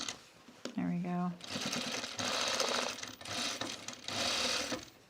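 A sewing machine stitches through fabric for a Mercer top in several loud bursts of rapid whirring, stopping and starting, after a brief spoken remark at the start.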